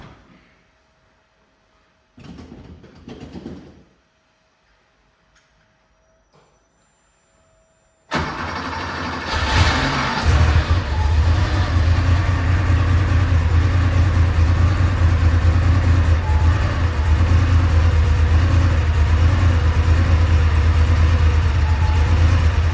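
A Porsche 911 Targa G-model with a blue-smoke fault is started after a few quiet clunks, its engine catching abruptly and then idling loud and steady for the rest of the time.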